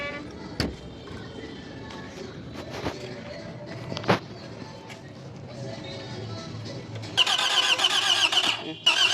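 A Toyota Camry with a 2AZ engine, under repair for oil burning, is cranked: scattered clicks and thumps lead into a louder, buzzing crank-and-catch near the end, close up, with a voice briefly heard.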